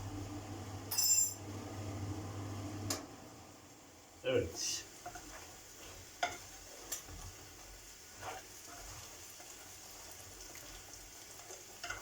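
Potato fries cook in a pan with a low, continuous sizzle, broken by a few stirring and clattering sounds while someone talks over it.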